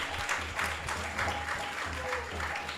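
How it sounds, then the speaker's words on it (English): Short burst of applause from a Vaishnava devotional gathering following the evening aarti, clapping dense and close with voices mixed in underneath. "let's give a big round of applause to Gopal."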